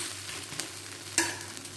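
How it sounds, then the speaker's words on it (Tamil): Adai dosa batter frying in oil on a pan, giving a quiet, steady sizzle with a few soft scraping clicks. "எண்ணெய் ஊற்றிக்கலாம். ஒரு பக்கம் வெந்தெடுத்து திருப்பி போட்டுக்கலாம்."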